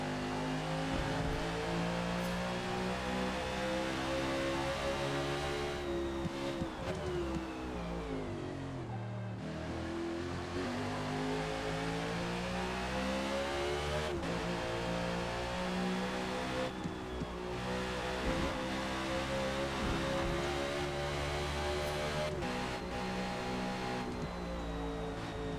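A NASCAR stock car lapping Bathurst in Forza Motorsport, its engine roaring continuously with sweeping pitch climbs through the gears, dips on braking and renewed acceleration, loud and close throughout.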